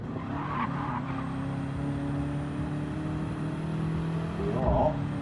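A GR3 race car at full throttle on the Nürburgring Nordschleife in a sim racing game, its engine droning loud and steady with tire squeal and a brief shift near the end, a commentator talking over it.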